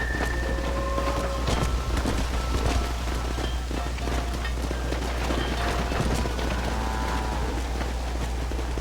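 Steady rain pours in Red Dead Redemption, a dense continuous hiss throughout with low rumble beneath, scattered clatter and faint voices under the downpour.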